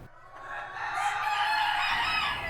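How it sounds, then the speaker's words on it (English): Chickens cluck and a rooster crows inside a hen house, the clucks echoing in the enclosed space, several birds calling over one another, steady and fairly loud. "the echo of the clucks inside the hen house is going to work really well"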